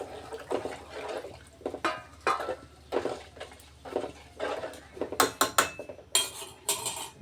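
Sambar being stirred with sambar powder in a cooking pot, a spoon scraping and clinking against the metal in repeated strokes, with sharper knocks near the end and no talk.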